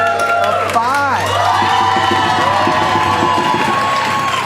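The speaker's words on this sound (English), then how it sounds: "Keep that applause going for Jay, Willow, and Maddi." A game-show studio audience, here for a Michigan event, cheers and whoops loudly, with a sustained crowd roar and a voice speaking over it throughout.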